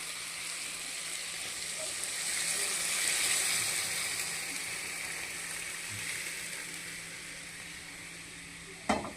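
A tempering of dried red chillies, tomato, radish and beans sizzles steadily in a hot pan, with a soft stirring scrape. A sudden louder hiss and clatter right at the end suggests the dal going in.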